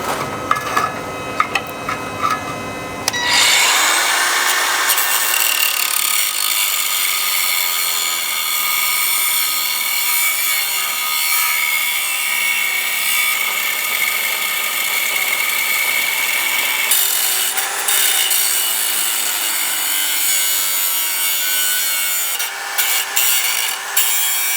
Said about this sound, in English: Let's try to cut the bolt.